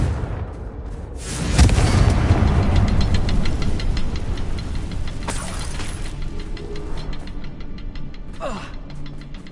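A Confringo blasting spell goes off in a Harry Potter video game, a loud booming explosion followed by a rumbling, crackling tail that fades over several seconds, with a brief whooshing sweep near the end.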